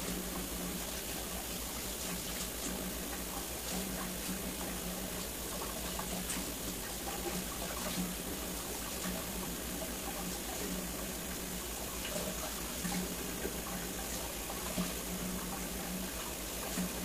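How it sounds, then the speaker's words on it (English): Continuous running water splashes steadily from a tap, a constant broadband rush with faint clinks as leafy greens are rinsed beneath it. "I'm gonna just wash the kale really quick. Rinse it off."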